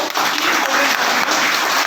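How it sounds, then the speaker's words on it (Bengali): An audience at a marketing training event claps loudly in a dense, continuous burst of applause that lasts about two seconds. "একটা জোরে হাততালি চাইবো।"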